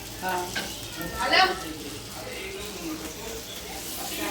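Halwa fish fillets frying in hot oil in a pan and being flipped: a steady close sizzle with a brief louder burst as a piece is turned, under a voice talking.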